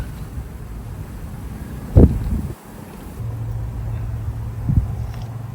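Wind buffets the microphone with a low, rumbling roar, gusting hardest around a couple of brief bursts, with no voices.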